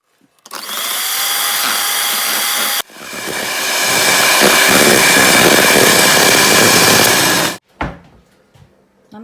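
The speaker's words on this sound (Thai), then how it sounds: "เราก็มาปั่นครีมสดนะคะ ก็จะทำไส้ชิฟฟ่อนค่ะ" An electric mixer whips fresh cream for a pandan chiffon filling, its loud, close motor whirring steadily, pausing briefly, then running again for several seconds before cutting off with a clatter.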